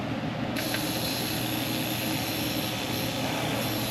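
A Ford F250's 400,000-mile 7.3 Power Stroke diesel engine starts up and runs steadily, a loud, dense rumble close by with no talk over it.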